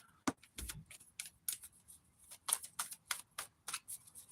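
Tarot cards shuffle in a run of crisp riffling flicks and soft taps, close and irregular, with quiet pauses between bursts and no talking.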